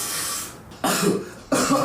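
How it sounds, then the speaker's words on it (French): A woman coughs harshly and breathily up close, a long rasping burst followed by two more forceful coughs in quick succession. "Elle tousse, ça dure longtemps."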